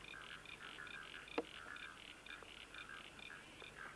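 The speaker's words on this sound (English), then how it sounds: "He's a happy little frog." A small frog by the Styx River croaks in a steady, rapid series of faint, rhythmic pulses over low outdoor background noise, with no talking.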